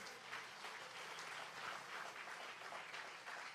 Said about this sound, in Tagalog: Pwede po ba tayong pumalakpak sa mahal na Panginoon?